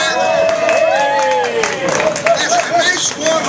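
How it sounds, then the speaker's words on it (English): Warm applause from an audience at a Florida event marking Social Security's 76th birthday: steady clapping mixed with crowd voices and cheers, running continuously at close range. "that's a nice warm applause for the program that I've been talking about"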